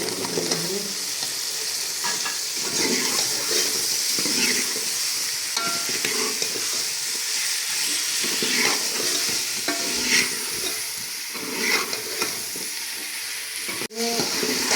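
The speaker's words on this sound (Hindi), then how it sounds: "अब डालते हैं इसके अंदर टिंडे, बिस्मिल्लाह।" Tinda (apple gourd) dropped into hot masala in a pan, sizzling and frying steadily throughout with stirring scrapes, close and fairly loud, no talking.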